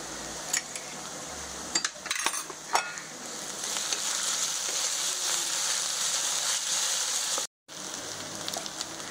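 Ginger garlic paste, added after asafoetida, sizzles steadily in a pan for stuffed green bell peppers, with sharp spoon clinks and scraping stirs early on and a brief silent gap near the end.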